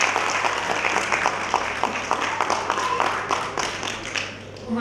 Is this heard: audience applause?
yes